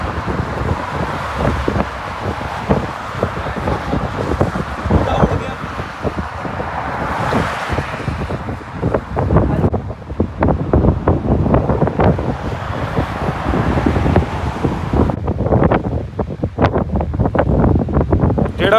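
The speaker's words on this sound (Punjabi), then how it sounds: "ਹਵਾ ਇੰਨੀ ਜ਼ਿਆਦਾ ਤੇਜ਼ ਆ" Strong wind on an Australian beach where kites are being flown, buffeting the microphone in loud, continuous gusts that roar and surge with breaking surf underneath.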